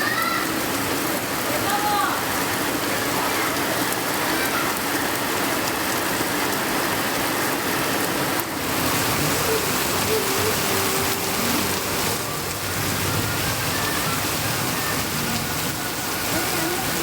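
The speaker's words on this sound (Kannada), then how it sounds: "ಗುಡುಗು ಸಿಡಿಲಿನೊಂದಿಗೆ ಮಳೆಯಾಗಿದೆ" Heavy rain from a thunderstorm pours down in a steady, loud, unbroken hiss, dense and close throughout with no distinct thunder claps.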